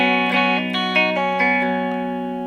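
An electric guitar with effects strums a chord several times in a quick rhythm, letting open strings ring on in a sustained, bright tone that slowly fades, played alone.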